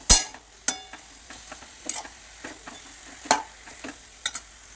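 Chopped green chilli and garlic being stirred into a fenugreek vegetable dish with peanuts, heard as sparse, close clicks and scrapes of a spoon against the pan over a faint background.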